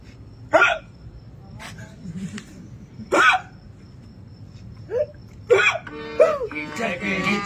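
Street-theatre performers at a protest mimic a king's hiccups with voice, giving several loud, abrupt hic bursts spaced a second or two apart over low crowd murmur outdoors.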